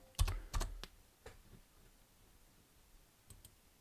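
Several quick keyboard clicks come in a short burst near the start of a computer keyboard session, then a few isolated keystrokes later, fairly close and clear against a quiet room.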